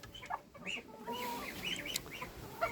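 Chickens cluck softly nearby, a scattered run of short, overlapping calls from several birds with no talking.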